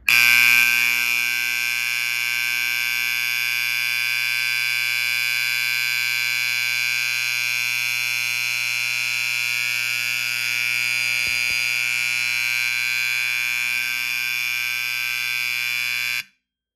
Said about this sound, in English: that is an extremely loud horn